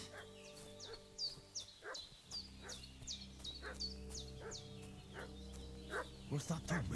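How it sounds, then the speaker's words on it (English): A dog barks repeatedly in the medieval village world of Kingdom Come: Deliverance II, sharp yaps repeating at a quick, fairly even rhythm over a low steady hum. "What's the dog barking at?"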